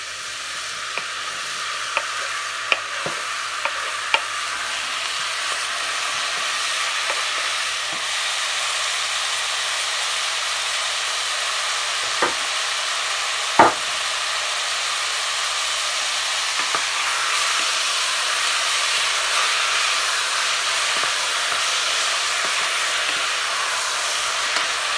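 Tomato frying in a pan of spices for salsa sauce, a steady loud sizzle and hiss running throughout, punctuated by occasional sharp pops and clicks, with no talk.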